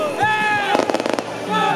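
A burst of rapid firework crackles pops for about half a second at an outdoor award celebration after a lawyers' sports cup, with music and talk-like tones around it before and after.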